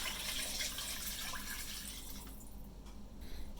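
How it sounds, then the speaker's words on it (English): Water poured from a container into a 5-quart pressure cooker, a soft steady splashing and gurgle close by that thins out toward the end. "2 quarts of water to this 5-quart pressure cooker"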